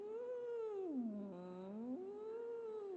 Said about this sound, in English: So I'd like you to do some slow slides into the straw.